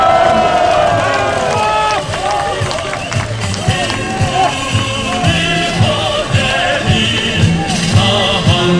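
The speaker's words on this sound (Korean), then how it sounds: "뜨거운 애국의 함성과 박수로서 청해 맞이하도록" A large crowd cheers and shouts loudly at an outdoor patriotic rally held to defend the NLL maritime border, a dense sustained roar with clapping mixed through it and a voice faintly audible underneath.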